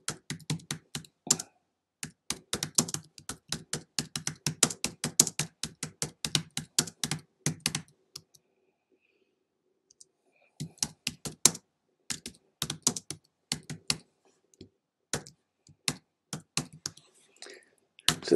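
Commands being typed on a computer keyboard in quick clicking bursts, pausing for a couple of seconds midway before the rapid keystrokes resume, close and clear with no talking.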